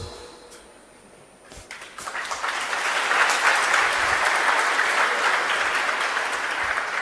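A large audience at a spiritual talk breaks into applause, starting thin and quiet, then swelling after a couple of seconds into dense, steady, loud clapping that carries on without voices.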